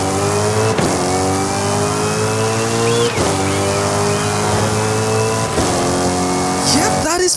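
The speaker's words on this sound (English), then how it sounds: "you can modify your transmission, and it basically sounds like you've got straight cut gears" A racing-game car fitted with a straight-cut gear transmission in Forza Horizon 5 revs up through several gears, its engine climbing in pitch with a high gear whine and sharp drops at each of three shifts.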